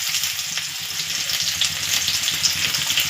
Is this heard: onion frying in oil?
yes